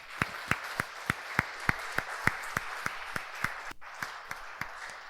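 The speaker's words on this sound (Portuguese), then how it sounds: "Se você consegue, aplauda Ele por isso." A church congregation claps in a steady rhythmic beat during a sermon, faint and somewhat distant over a hum of room noise. The clapping stops abruptly near the end.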